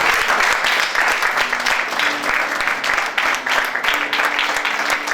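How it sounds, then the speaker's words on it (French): Church congregation applauding and cheering at a Sunday worship service, dense sustained clapping from a large crowd with voices mixed in throughout. "Est-ce qu'on peut acclamer pour mon fils?"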